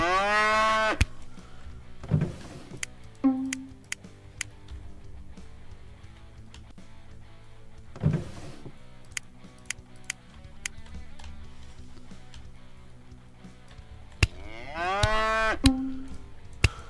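Cattle in the medieval strategy game First Feudal let out several deep, drawn-out moos at uneven intervals over quiet background game sounds and faint clicks.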